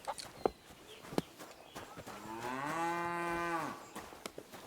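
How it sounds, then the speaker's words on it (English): Cows in a barn in Kingdom Come: Deliverance 2 let out one long, loud moo lasting over a second, with a few footstep-like knocks before and after it and no talk. "2 cows in here."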